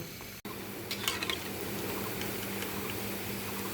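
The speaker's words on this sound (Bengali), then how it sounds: "ডুবা তেলে ভেজে নেব। এইভাবে আমরা সবগুলো পেঁয়াজু ভেজে নেব।" Onion pakoras deep frying in a pan of oil, a steady close hissing sizzle with faint bubbling crackles, no voices.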